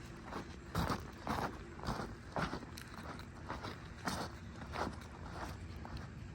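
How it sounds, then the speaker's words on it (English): Footsteps fall in an irregular rhythm on a hard surface beside water, faint and close, with soft scuffs and small knocks under a quiet background. "Just the sound of my footsteps can't be escaped."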